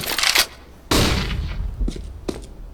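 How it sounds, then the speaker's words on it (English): A thrown flashbang grenade in Counter-Strike on the Mirage map gives a sharp blast, then a sustained roar and a couple of quieter bursts of gunfire-like sound. "I'm throwing a flashbang"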